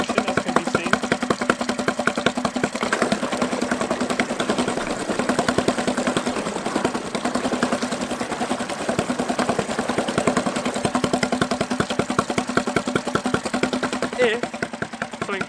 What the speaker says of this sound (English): Placing the engine in gear provides forward motion, as can be seen.